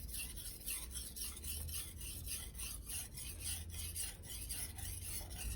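An Aogami Super (Blue Super) steel knife is stroked across a Naniwa Economical #1000/#3000 grit whetstone, a steady rhythmic rasp of repeated back-and-forth strokes, close and fairly quiet, with no voices.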